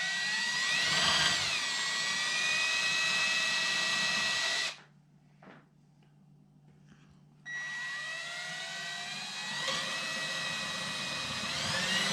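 A power tool, likely a blower, whines loudly, stops for a few seconds, then starts again while sawdust is blown around a kitchen during a 21-inch soft-close drawer guide installation.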